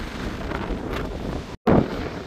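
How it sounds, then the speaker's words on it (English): Gusty wind buffets the microphone with a low, rumbling roar over a bean and corn field at harvest, briefly cutting out before a strong gust hits. "It is windy up here."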